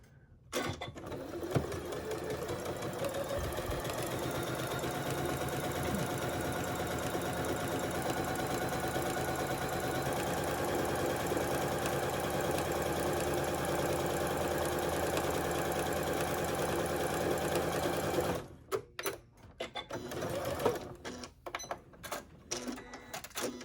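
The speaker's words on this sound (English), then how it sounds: "Now I'm going to do exactly the same thing on the lining fabric, but I'm going to leave an opening there at the bottom." A sewing machine runs steadily, stitching lining fabric for a trick-or-treat bag with a close, continuous mechanical whir, then stops near the end, leaving a few clicks and handling noises.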